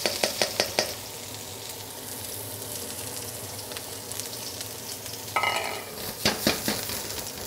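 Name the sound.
red onion frying in hot oil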